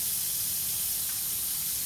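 An olive-oil-coated bun toasts in a hot skillet, making a steady, close, unbroken hiss of sizzling oil.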